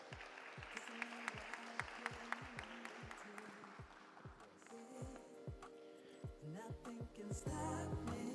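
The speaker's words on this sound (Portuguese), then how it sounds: "Uma salva de palmas para eles." An audience applauding after speakers are called to the stage at a conference, sharp individual claps standing out at first, then thickening into fuller clapping and crowd noise toward the end.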